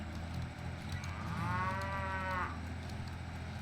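A single cow in Farming Simulator 2011 gives one drawn-out, tonal moo lasting about a second, over a low steady background hum.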